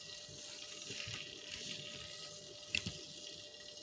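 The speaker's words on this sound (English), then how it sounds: "pour our drippings" Beef breakfast sausage fat drippings pour from a pan into a jar, a soft, close liquid trickle running steadily with a couple of brief clinks near the end.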